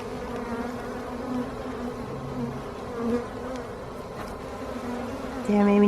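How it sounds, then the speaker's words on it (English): Honey bees fan their wings at the hive entrance on a rainy day, a dense, close buzzing drone with shifting pitches and individual bees passing near, swelling louder at the end. "They stick their butts up in there and they fan."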